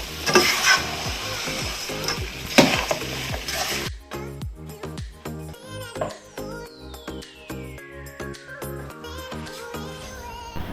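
Fish pickle with fried curry leaves is stirred in a pan, giving a sizzling scrape and repeated utensil clicks, busier and louder in the first four seconds, then lighter irregular stirring taps with a faint high sweeping tone.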